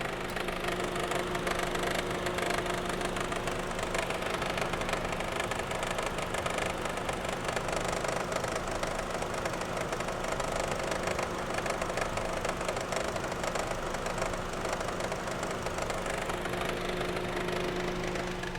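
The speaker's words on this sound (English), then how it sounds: "there's a dry belt pulley that's making that obnoxious noise" Jeep engine runs with a dry belt pulley, giving a loud continuous mechanical drone with a steady whining squeal layered over the rumble, unbroken and close throughout.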